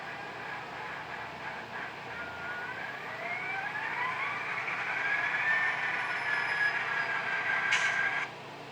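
A SoundTraxx DCC sound system in an HO-scale Kato Union Pacific EMD GP35 model locomotive sends out a rising diesel engine drone as the throttle climbs. A whining tone sweeps upward, then the sound cuts off sharply near the end.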